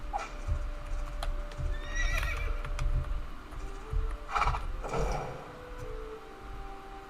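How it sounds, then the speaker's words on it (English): A horse whinnies with a rising, wavering neigh, mixed with scattered hoof clip-clops and thuds at moderate distance, all fairly quiet. "Bad horsey."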